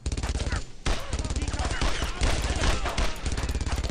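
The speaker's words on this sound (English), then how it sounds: "that's a fucking machine gun, too" Sustained machine gun fire hammers in rapid, continuous rhythm in the World War II shooter Brothers In Arms: Road to Hill 30, loud and close, pausing only briefly before the bursts resume.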